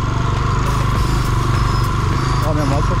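A motorcycle engine drones steadily up a muddy hill climb on a trail near Jaraguá do Sul, close and loud, holding a constant labouring tone as the bike slips on the slick ground.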